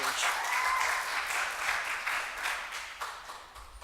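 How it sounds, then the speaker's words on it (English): Audience applause at a startup pitch day, a sustained wash of many hands clapping that tapers off slightly toward the end, heard from a distance in a large room. "Let's give a round of applause for Catalina and welcome her to the stage."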